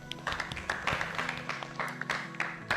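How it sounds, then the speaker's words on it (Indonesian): Children in a classroom clap together in scattered, uneven bursts, close and fairly soft, while a faint hum and a few voices sit underneath. "Tepuk tangan dulu anak-anak"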